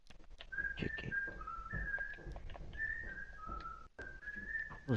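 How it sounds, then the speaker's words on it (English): A person whistles a wavering melody in short repeated phrases, fairly close and clear over low background noise. "Who's whistling like that?"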